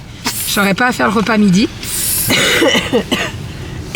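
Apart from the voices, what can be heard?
coughing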